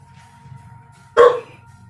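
A single sharp bark from a pet dog in a home cuts in once, loud and close, over a low steady background hum.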